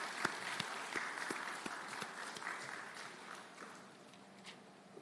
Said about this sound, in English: a warm round of applause for Samuel Sule, CEO, Renaissance Capital Africa